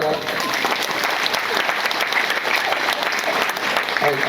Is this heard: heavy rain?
no